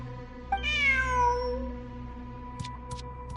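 A cat in the Genshin Impact video game lets out a single drawn-out meow with a falling pitch, clear and close, followed by a few faint clicks against a steady low game background.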